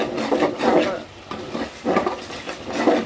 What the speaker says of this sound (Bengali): মশলাটা ভালো করে কষানো হচ্ছে